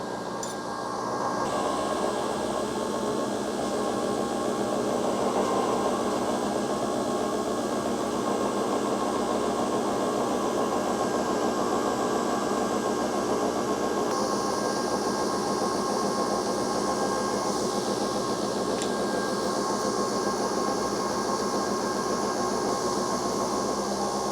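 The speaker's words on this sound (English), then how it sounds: "it's really going to spin that pod. It'll sound like the airplane's taking off." A Nespresso Vertuo Plus coffee machine spins its capsule with a steady high-speed whirring hum and broad hiss, continuous and loud throughout, with no talking.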